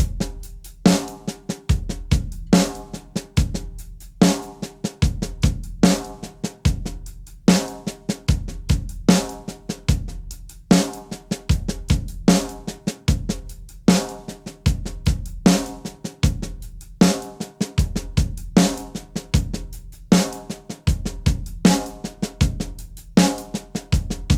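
A drum kit plays paradiddle grooves in 13/16 time, with loud, crisp strikes repeating in a steady, tight pattern from start to finish. Deep kick thumps anchor the rhythm under sharp snare and cymbal hits, and no voices are heard.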